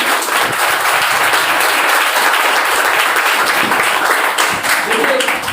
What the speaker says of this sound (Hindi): एक बार जोरदार तालियां बजा दीजिए, जम के, बिग हैंड।